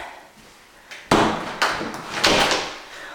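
A closet door in a house opens with a sharp close knock, followed by a couple of further bumps and a rattle over roughly two seconds, heard alone without talk.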